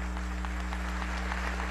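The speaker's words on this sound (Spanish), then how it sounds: "un aplauso para ustedes también" Scattered applause rises in a national assembly session hall, faint, steady clapping heard over a constant low electrical hum from the sound system.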